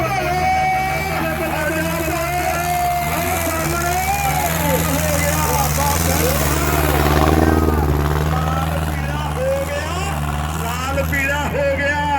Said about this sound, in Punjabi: ਕਹਿੰਦੇ ਦਸੂਏ ਵਾਲੇ ਦਾ ਟਰੈਕਟਰ ਆ